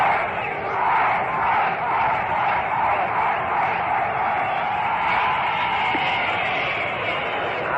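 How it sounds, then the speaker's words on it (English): Dense roar of a bleacher crowd cheering at the Polo Grounds during a World Series game, a sustained wash of many voices rising and falling steadily throughout, loud and continuous. "it's difficult competing with this cheering"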